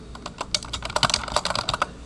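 Rapid keystrokes clatter on a computer keyboard as a name is typed, a quick uneven run of close, crisp clicks lasting about two seconds.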